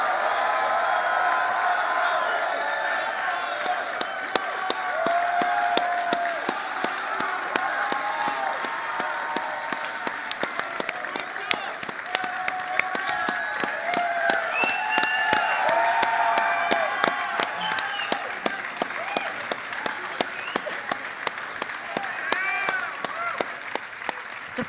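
A large arena crowd at an esports grand final applauds and cheers nonstop, loud dense clapping with whoops and shouts rising over a steady roar throughout.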